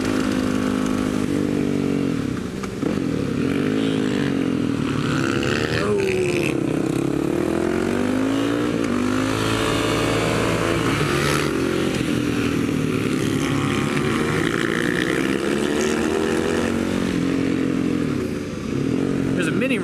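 A motorcycle ridden on a race track gives a loud, continuous engine drone throughout, its pitch repeatedly rising and falling as the rider accelerates and eases off.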